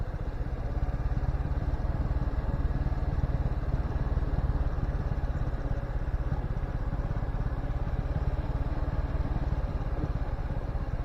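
Suzuki Gixxer 250 motorcycle held in first gear while climbing a steep 25% mountain road on Mount Tsukuba, engine droning loud and steady without a break.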